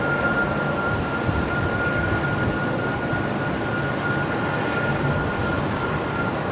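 A Jetstar Airbus A320 airliner touches down on runway 01 at Brisbane Airport at night, giving a steady, broad roar that holds at an even level throughout, with no talk over it.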